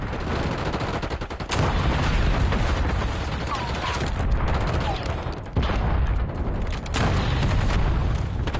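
Frag grenade blasts in a Call of Duty multiplayer match, loud booming bursts that punch through a dense wall of rapid gunfire and chaotic battle noise, with a couple of sudden surges in volume.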